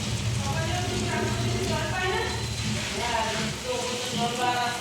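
Egg curry with potatoes and spices sizzling in oil in a pan, a steady crackling hiss that runs through the whole clip while someone talks over it.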